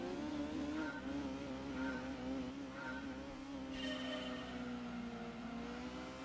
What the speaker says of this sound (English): It's the worst engine sound in racing gaming history.